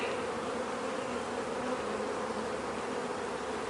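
Honey bees buzz steadily inside a winter-grown hive while its queen is released from a push-in cage, a dense, continuous drone holding even and close throughout with no talk.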